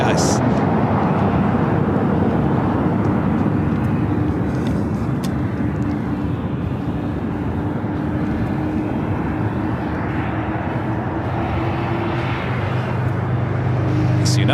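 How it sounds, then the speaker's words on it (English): A United Boeing 777-200 arrives at LAX from Chicago O'Hare with a steady, loud jet roar and broad rumble that barely changes, while people talk faintly nearby. "United 777-200 coming in from Chicago O'Hare, flight 2657"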